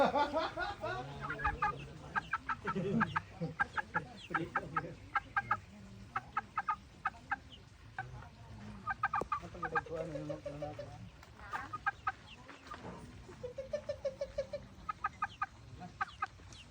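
A chicken on a small farm clucks in repeated quick bursts of short notes, close and clear, with quiet voices between the calls.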